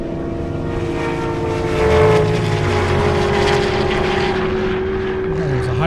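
A Dodge Charger and a Corvette Z06 at a half-mile airstrip drag race roar down the strip with a loud, sustained engine drone that swells and holds, heard from the track side amid background noise.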